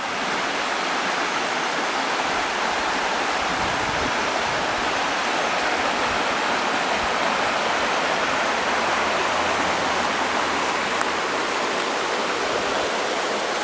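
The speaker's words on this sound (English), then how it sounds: "Right here we have a shot now is where the rivers meet." The River Ogmore and River Finby flow together at their meeting point, a dense, steady rushing roar of water that stays constant and close throughout with no voices.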